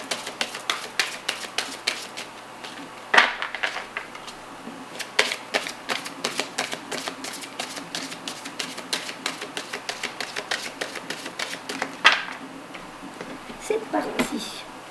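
Tarot cards are shuffled for a card reading, giving a run of quick, crisp flicking and snapping bursts at close range, fairly soft and repeated throughout.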